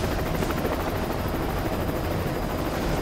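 A helicopter flies near a mountain, its rotor roar loud, close and steady throughout with no voices.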